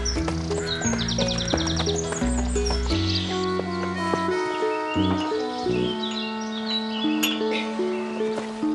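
A horse with its tack moves on a farm, with hoof clip-clops and a brief whinny mixed among bird chirps and other layered sounds, heard at moderate distance.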